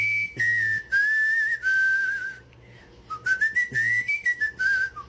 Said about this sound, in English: I found this guy that knows how to whistle in a really weird way.